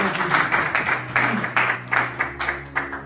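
A church congregation claps together in rhythm, steady repeated hand claps ringing through the hall, fairly loud and close, with no clear talking over them.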